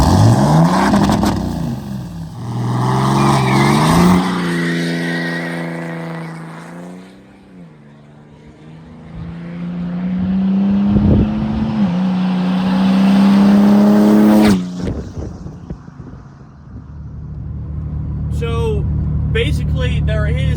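A 6.7 Cummins diesel truck with an upgraded turbo accelerating hard on the road, the engine note rising through several gear pulls from inside the cab, with people talking over it and a quieter cruising stretch near the end.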